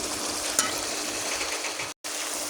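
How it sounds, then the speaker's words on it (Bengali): Spice paste for a quail curry is sautéed in a pan, giving a continuous close sizzling hiss with faint stirring scrapes and a brief gap near the end. "মশলা কষানো প্রায় হয়ে আসছে আর একটু আমি কষিয়ে নেবো"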